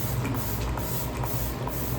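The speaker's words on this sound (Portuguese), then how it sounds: "aplicar um spray fixador de maquiagem para deixar tudo bem fixo aqui no lugar a noite inteira" Vizzela makeup setting spray is misted onto the face, producing a soft continuous hiss up close with faint pumping ticks, and nobody speaks.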